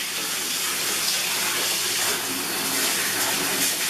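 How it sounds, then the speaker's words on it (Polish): Water pours steadily from a tap into a bathtub, a constant hissing, splashing rush that stays even and fairly loud throughout, with no talking over it. "Musimy najpierw napuścić wodę."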